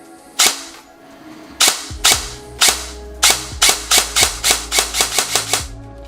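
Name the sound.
Specna Arms SA-H12 airsoft replica firing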